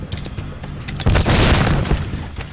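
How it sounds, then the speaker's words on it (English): Grenade blasts in a multiplayer shooter, fired under cover of smoke toward a room: a loud booming burst around the middle, preceded by scattered pops and crackles, with rumbling debris trailing off. "under the cover of smoke, I'm just throwing grenades"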